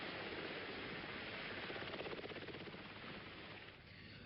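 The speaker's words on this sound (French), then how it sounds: "L'hélicoptère déposait peu après Richard Nixon sur une base militaire" Helicopter in 1974 news footage, heard as a steady, loud, rapid rotor chop over broadband engine roar that fades slightly toward the end, with no talking.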